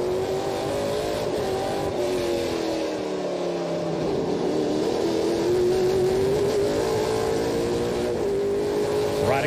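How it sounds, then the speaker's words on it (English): Onboard a NASCAR Pinty's Series race car on the GP3R street circuit at Trois-Rivières, the engine roars loud and close, its pitch rising and falling through gear changes and revs, steady for the whole stretch. "Riding on board with one of the best, though, in LP Dumoulin"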